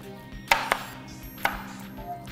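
Kale stalks are chopped with a knife on a cutting board: three sharp, close knocks, two in quick succession and then a third after a pause, with no talk.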